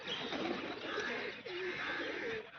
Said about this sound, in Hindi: कबूतर बैठ गया हमारी छत पे